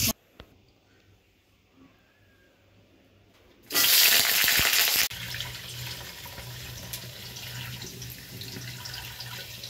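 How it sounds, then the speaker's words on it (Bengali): Mung dal frying in a pan in a home kitchen: a loud burst of sizzling hiss that settles into a steadier, quieter sizzle, with a faint low hum underneath. "এখন মুগ ডালটা ভাজা হচ্ছে"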